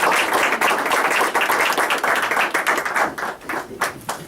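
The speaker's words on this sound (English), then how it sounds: "let's give a round of applause" A room full of people at a school board meeting claps together, a dense, fairly loud wash of applause that holds steady and then thins into scattered claps toward the end.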